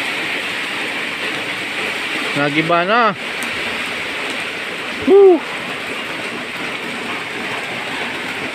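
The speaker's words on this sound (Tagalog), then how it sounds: "Ang lakas oh ng ulan." Heavy rain pours during a flood, making a dense, steady hiss throughout, while a voice calls out and exclaims loudly over it twice.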